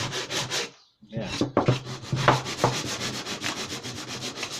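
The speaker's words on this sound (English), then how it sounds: "Do you want to give that one a little go with the sandpaper?" Sandpaper rubs back and forth on a wooden planter box piece in quick, close scratchy strokes, pausing briefly near the start before continuing steadily.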